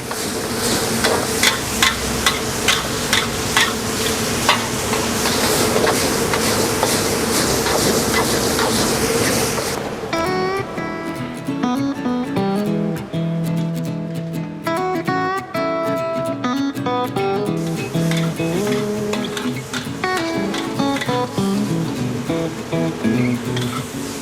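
Rhythmic rattling and sizzling as a pan of frying shrimp for udang rica-rica is shaken over heat, loud and close for several seconds, then giving way to background music.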